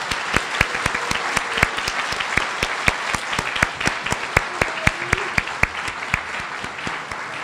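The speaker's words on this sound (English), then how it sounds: "Applause" At a division spelling bee, the audience applauds at the end of a round, with scattered claps rising into steady applause and sharp individual hand claps standing out near the microphone throughout.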